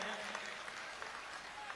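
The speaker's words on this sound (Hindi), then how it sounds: "एक बार इन कवियों के लिए आप दोनों हाथ उठाकर जोरदार तालियां बजाइए" An audience at a poetry gathering in India applauds the poets, a soft, distant wash of clapping that stays even and muffled throughout.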